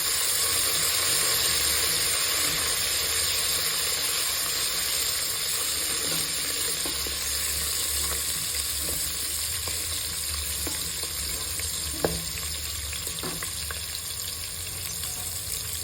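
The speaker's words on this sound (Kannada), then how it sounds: "ಈಗ ಚೆನ್ನಾಗಿ ಬಾಡಿಸ್ಕೊಳ್ಳೋಣ." Fenugreek and dill greens sauté in a pan: a steady, even sizzle with a faint hiss of steam throughout and a few soft ticks and clicks, with no voices.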